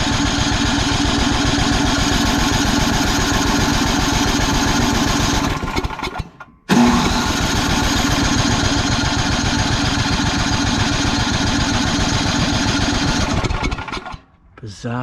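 A Craftsman 27-inch two-stage snowblower engine, choked, runs with a loud, rapid, steady chug up close, cuts out abruptly for a moment, then restarts and keeps running before briefly dipping near the end.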